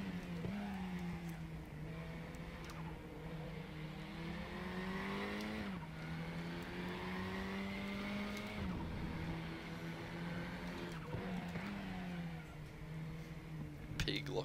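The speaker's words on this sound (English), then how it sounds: "Tyres squealing away." KTM race cars in the RaceRoom racing game at Lausitz, a steady engine drone with gear shifts and tyre squeal through turns, with someone talking over it throughout.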